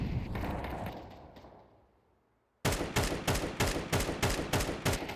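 Rapid bursts of rifle spam fire in Counter-Strike on the Mirage map during an ESL Impact match, loud and close, a rhythmic string of sharp shots after a fading rumble and a brief quiet gap.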